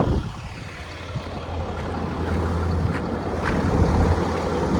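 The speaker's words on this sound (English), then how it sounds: "That is a running engine." A boat engine runs with a steady low rumble throughout, with wind buffeting and water sounds around it; no one speaks.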